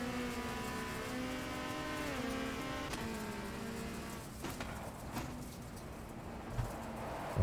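A race car engine in Race: The WTCC Game at Brands Hatch GP, a steady high-pitched whine shifting through gears as it climbs and drops, moderately loud with faint thumps and no talk.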